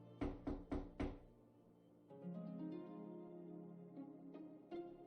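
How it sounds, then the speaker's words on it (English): Four firm knocks on a door in quick succession, fairly close and loud, followed by a soft sustained musical backdrop with no talking. "there's a knock at the door"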